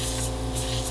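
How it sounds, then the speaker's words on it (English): A hydrating serum is misted onto skin during an oxygen facial, giving a steady, close hissing spray with a low machine hum beneath it and no pauses. "First, I'll spray the serum onto your skin and then push it in with the oxygen."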